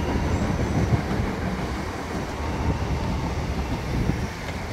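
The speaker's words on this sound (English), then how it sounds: "train is passing." A train passes close by, a steady loud rumble with rolling wheel noise throughout and no talk, heard from near a beach in Dublin.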